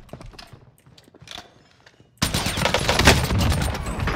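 Gunfire in Call of Duty Modern Warfare: after a quieter opening with faint scattered shots and noise, a loud, dense burst of rapid gunshots erupts midway and continues to the end.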